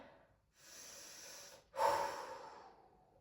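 Slow, audible breathing during a Pilates stretch, a soft sustained inhale followed by a stronger, louder exhale, close and alone with no talk.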